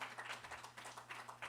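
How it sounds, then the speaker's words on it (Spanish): A church congregation claps along in a steady, rhythmic pattern of hand claps, moderately distant and fairly soft, with no talking over it. "Denle un fuerte aplauso al Señor."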